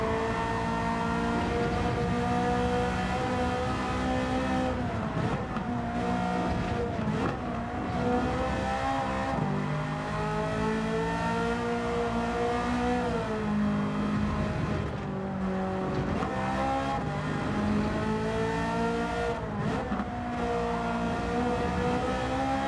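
A Ferrari F40 '92 engine in a racing video game revs hard and continuously, with its pitch rising and falling through gear changes and corners, loud and steady, with a brief tire squeal and no talking.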